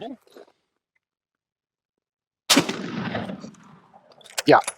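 A single sharp gunshot from a Mauser Model 1871 rifle aimed at a round gong cracks after a stretch of silence and rings out briefly, with a short voice before it and a clatter after.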